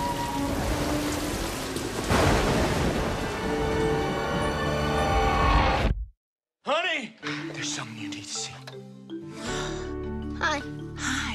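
Heavy rain pours steadily through a stormy night with rumbling thunder for about six seconds, then gives way to a voice speaking over quieter background.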